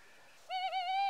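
A tawny owl calls once, a smooth, steady hooting note that starts after a brief quiet pause and holds for about half a second, clear and moderately close with nothing else heard.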